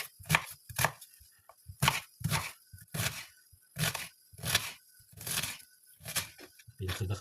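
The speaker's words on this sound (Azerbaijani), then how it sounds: "soğanımızı doğrayırıq" Onions are chopped with a knife on a board in irregular sharp strikes, about a dozen crisp chops spaced through the stretch, each a quick close crunch followed by short pauses.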